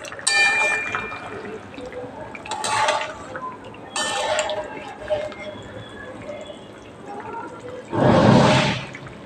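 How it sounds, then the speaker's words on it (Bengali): Fried hilsa fish pieces go into a simmering curry of taro and potato in a home kitchen pot. Light clinks and liquid bubbling lead up to a loud, sustained splash and sizzle near the end. "এর মধ্যে দিয়ে দেব ভেজে রাখা মাছ।"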